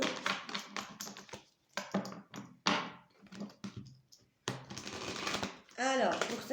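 Two oracle card decks shuffled together by hand, with close, quick bursts of riffling and tapping cards in uneven clusters separated by short pauses, ending in a longer flurry.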